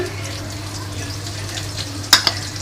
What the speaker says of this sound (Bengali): দিয়ে দেবো কিছু পেঁয়াজ কাঁচামরিচ কুচি